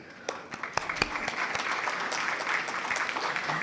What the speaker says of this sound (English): nice, powerful applause will go a long way